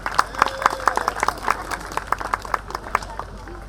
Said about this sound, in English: Big claps to him.